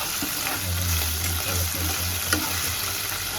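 Ginger garlic paste fries in a pan for a restaurant-style veg kolhapuri, a continuous close sizzle with a low bubbling hum and a faint utensil tap near the end.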